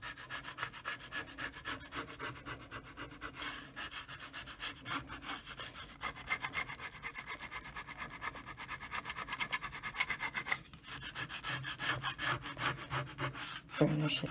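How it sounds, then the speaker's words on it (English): Burnishing tool rubbing steadily over Cricut vinyl on a bathroom sign, a continuous close scraping friction that runs throughout with slight surges, and no talking. "burnish it down"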